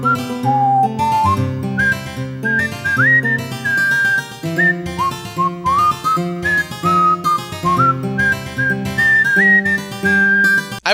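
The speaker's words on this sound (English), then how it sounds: "the whistling is a nice touch" Bright melodic whistling carries the tune of the Wii Fit Obstacle Course game music, hopping between notes in a bouncy rhythm over steady bass and chords throughout.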